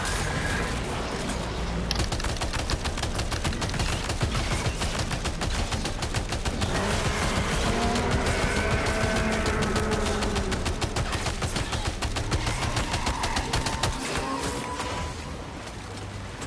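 Rapid, loud automatic gunfire from the crazy gun in Death Stranding 2, a dense stream of shots rattling almost without pause across the whole stretch, with game music and effects layered underneath.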